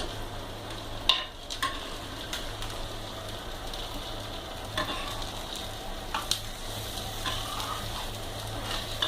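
Sardines fry in a pan with a steady, moderate sizzle, broken by occasional crackles and scraping stirs, and no voices are heard.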